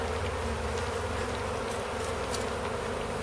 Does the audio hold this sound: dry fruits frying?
no